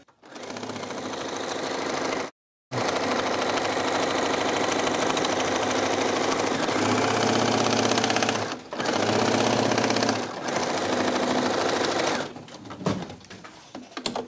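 Sewing machine stitching denim runs in long continuous bursts, loud and close, with a steady mechanical whir and rapid needle clatter, stopping briefly a few times before trailing off into scattered handling noises.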